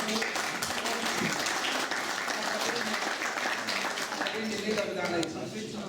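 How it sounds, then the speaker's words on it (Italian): An audience at a culinary delegates' gathering gives sustained applause, a dense, even clapping crowd that holds steady for several seconds before starting to fade, with voices mixed faintly underneath. "Dus een applaus voor Lino."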